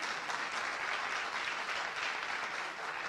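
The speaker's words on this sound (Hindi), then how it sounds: "बजाइए ताली, जोर से बजाइए" An audience at a televised political stage event applauds, a dense, even wash of clapping that is sustained throughout, moderately loud and without speech.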